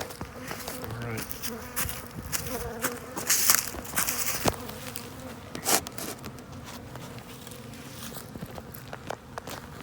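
Honey bees buzz densely around a beehive during spring swarm work, a continuous close hum broken by loud passing bees and by handling and footstep noises.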